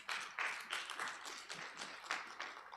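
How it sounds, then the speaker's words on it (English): A few people clapping their hands at a conference session, a brief ragged burst of applause with uneven bursts of claps, fairly close. "I think Marshall deserves a hand clap"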